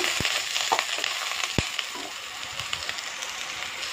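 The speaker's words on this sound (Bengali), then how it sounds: "ঝিঙে আর বেগুনটা দিয়ে দিয়েছি, একটু নাড়াচাড়া করে হালকা ভেজে নেব" Ridge gourd and eggplant frying lightly in a pan: a quiet, continuous sizzle with a couple of sharp taps and scrapes of a spatula as the pieces are turned.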